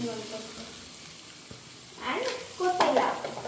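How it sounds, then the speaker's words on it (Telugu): Mint being stirred into a frying dish in a pan, with soft scraping and stirring under a light sizzle that grows louder in the second half, ending in a few sharper clinks of utensil against metal. "ఇట్లా కలుపుకుందామండి."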